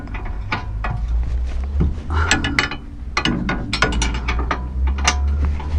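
Ratcheting wrench tightening the rear shock absorber bolt on a Golf V, a run of rapid close metallic clicks in irregular bursts with brief pauses, no talk.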